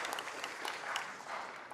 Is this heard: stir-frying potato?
no